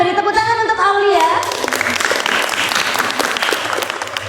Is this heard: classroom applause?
yes